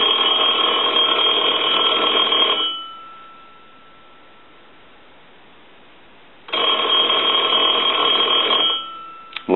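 The bell of a repaired Conair Metropolis telephone rings in two long bursts of about two and a half seconds each, loud and metallic, separated by a silent pause.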